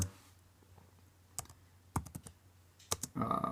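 Scattered keyboard clicks tap out irregularly, quiet and close, with a few louder keystrokes and a brief rustle at the end.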